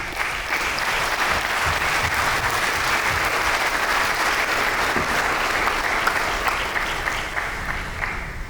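An audience at an investor awareness session gives sustained applause after a speech, many hands clapping in an even, dense wash for over eight seconds.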